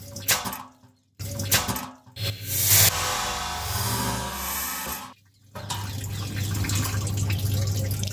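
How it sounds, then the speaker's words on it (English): Fuel draining from a Peugeot gas tank into a sealed container, a steady pouring and splashing stream broken by a few brief gaps, loud and close with a low hum underneath. "Meanwhile, I brought a sealed tank for taking out this fuel."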